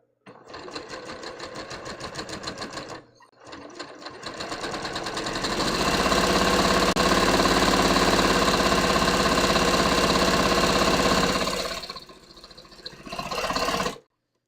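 A sewing machine staystitches the neckline of a bias-cut bateau neck blouse. A short burst of stitching, a brief pause, then a long, loud, steady run of needle strokes, and one final short burst after a quieter gap.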